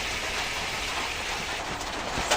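Hot water poured into a frying vegetable curry of ridge gourd and potato, giving a steady, dense hiss and sizzle, rain-like and close, continuous throughout with no talk.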